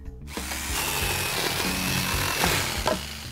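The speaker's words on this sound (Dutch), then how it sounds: "Hier, zaag langs deze lijn." In a Bob the Builder cartoon, a saw cuts along a marked line, a continuous harsh rasping with rhythmic strokes, loud and close, with no talk.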